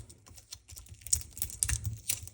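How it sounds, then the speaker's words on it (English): Protective plastic is peeled off a new GMT watch with a bi-directional bezel, giving close, quick crinkly rustles and crackles in short irregular bursts, with no speech. "Let's take all the plastic off of it."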